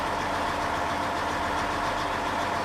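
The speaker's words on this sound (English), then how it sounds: "The specialty of this tank is a gas turbine engine that is fueled by JP8 jet fuel" M1 Abrams tank gas turbine engine burning JP8 jet fuel, running as a constant, dense, loud roar with a broad hiss, steady and unbroken throughout, no voices.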